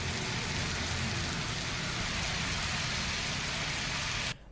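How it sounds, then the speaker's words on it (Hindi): Heavy rain pours steadily in the Delhi NCR area, a dense, loud, unbroken hiss that stops abruptly near the end. "भारी बारिश दिल्ली एनसीआर में हो रही है"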